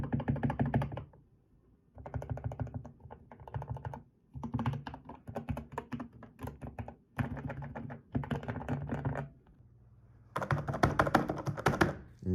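Bursts of fast typing on a newly built custom keyboard, crisp clacky keystrokes with deeper thocky presses like shift keys, coming in runs of a second or two separated by short quiet pauses, close up and with no talking.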